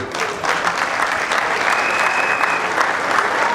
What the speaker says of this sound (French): Nous pouvons applaudir pour Mboyo.